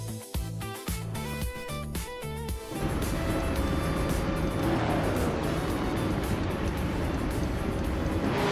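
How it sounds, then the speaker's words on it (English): Engine of a 1968 Alfa Romeo T33/2 Longtail race car in a racing video game, at first rhythmic pulsing revs, then a dense sustained roar as it accelerates, loud and continuous with no talking. "the race kicks off at Villarreal, and leading the pack is Violetta Mama in a classic 1968 Alfa Romeo T 33-2 Longtail"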